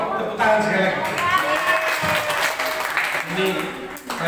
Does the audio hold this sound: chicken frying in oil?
no